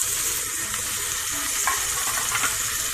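Onions and tomatoes fry in a pan for okra achari masala, a steady close sizzle with faint stirring scrapes and no talk.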